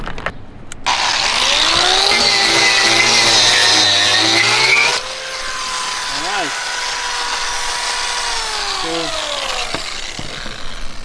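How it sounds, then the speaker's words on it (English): A power grinder cuts screws off a metal roof, giving a loud, continuous high-pitched whine close by that lowers in pitch midway as the load changes, and it keeps running throughout. "I want to grind the screws off where the screws was sit, where the washers and the screws are."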